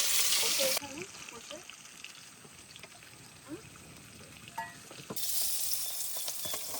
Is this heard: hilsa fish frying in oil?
yes